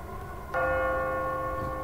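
A single soul bell struck once in Simon the Sorcerer 3D, the strike ringing out loud and clear, then a sustained metallic hum with steady harmonic overtones lingering for over a second.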